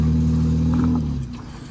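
Off-road 4x4 Jeep engine during rock crawling: a steady loud idle-level rumble with a brief rev, then easing off and fading within two seconds, with no voices.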